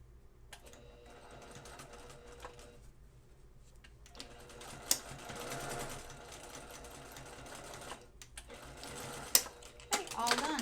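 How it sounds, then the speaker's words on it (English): A home sewing machine runs in short bursts and longer steady runs, stitching an elastic casing closed on a small child's peasant dress, with quiet talk at moments between the whirring stretches. "I'm going to just simply sew the casing closed."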